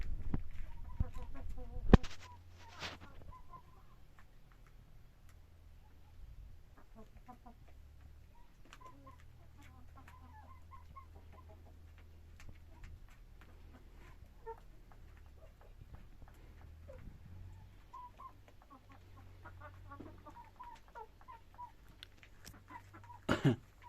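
Chickens cluck softly in scattered bursts against a low steady hum, with a couple of sharper knocks near the start and end.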